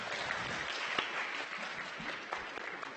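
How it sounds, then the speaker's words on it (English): An audience at a new student orientation event applauds a good catch, with steady, fairly even clapping across the whole moment and no voices over it. "you can applaud the catch"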